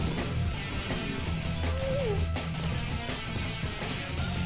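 A ghast in Minecraft gives a brief, faint wavering moan partway through, rising and falling once over the dim, crackling ambient noise of a Nether fortress.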